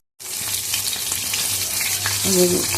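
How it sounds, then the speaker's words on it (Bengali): Bata fish fries in hot oil, a dense, steady sizzle heard up close with a faint stir near the end and no talking. "বাটা মাছটা ভাজা করছি"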